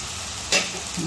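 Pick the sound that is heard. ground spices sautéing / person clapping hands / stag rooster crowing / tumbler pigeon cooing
ground spices sautéing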